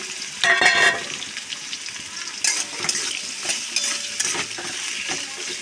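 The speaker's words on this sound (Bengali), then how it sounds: "এবারে আলুটা ভেজে নেবো আগে" Potatoes frying in a pan of hot oil with dried chillies and nigella seeds, a steady crackling sizzle with louder bursts and occasional stirring scrapes, close and continuous.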